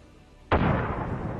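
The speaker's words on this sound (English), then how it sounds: "After the grenade explosion," A sudden loud grenade blast strikes a tank fitted with reactive armor during the Ukraine war: one sharp explosive crack followed by a sustained roaring rumble that slowly fades.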